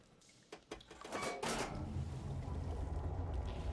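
Water switching flow after a lever is pulled in Horizon Forbidden West: a few mechanical clunks, then a rising, steady rush of flowing water that swells and holds.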